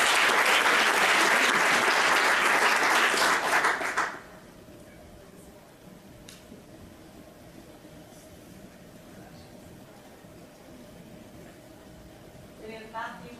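Audience applause at an award ceremony for the 2012 Global Final winners: a dense burst of clapping for about four seconds, then it stops abruptly, leaving a low room hum and faint murmuring.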